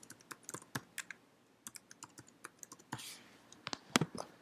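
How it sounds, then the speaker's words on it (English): A password is typed on a computer keyboard: quiet, close key clicks in an irregular run of single taps and short bursts, with a slightly louder cluster near the end. "Type in your password"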